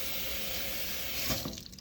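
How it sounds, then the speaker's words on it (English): Lukewarm tap water runs steadily over hands at a sink while they are rinsed after removing protective gear, a close, continuous hiss with a slight splash change near the end. "rinsing, letting that lukewarm water flow off of your fingertips"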